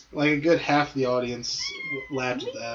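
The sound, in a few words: cat meowing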